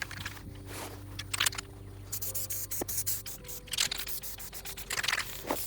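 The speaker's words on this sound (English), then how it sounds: "I'm going to spray some of this Gorilla Glue on this piece" Short bursts of hissing Gorilla Glue spray adhesive come in several spurts, close by, with light scraping and handling noises between them, while soundproofing an RV air conditioner.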